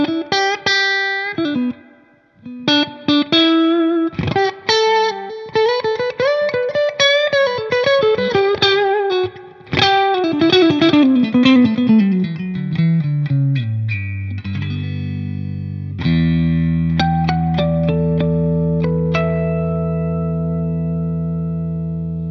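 Electric guitar through a Source Audio True Spring Reverb pedal plays plucked notes and chords drenched in splashy, drippy spring reverb, the final chord ringing out and slowly fading.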